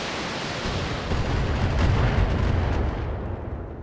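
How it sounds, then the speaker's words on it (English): An ammo explosion after a critical hit in the BattleTech video game gives a loud, sustained roaring blast of dense rumbling noise that swells and fades slowly, with no talking. "Target's taken a critical hit. Ammo explosion is something."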